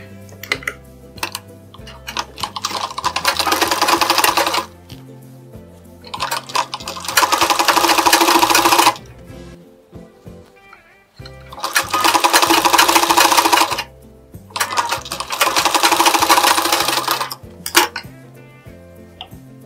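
A sewing machine stitches a blouse lining in four long bursts of rapid mechanical clatter, each lasting a few seconds and separated by short pauses with small clicks of fabric handling.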